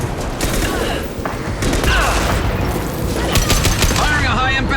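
Heavy high-impact gunshots fire in rapid bursts during a Mass Effect 2 firefight, loud and close with sharp cracks and ringing tails over constant battle noise.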